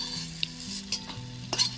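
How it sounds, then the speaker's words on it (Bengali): Chana dal fries in hot oil in a pan while a spoon stirs it, giving a steady close sizzle with a few sharp scraping clicks against the metal, and no voices. "আমার ডালটা সম্পূর্ণ ভাজা হয়ে গেল।"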